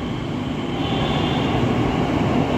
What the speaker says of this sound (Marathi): आता माझ्या मागे तुम्ही मेट्रो पाहू शकता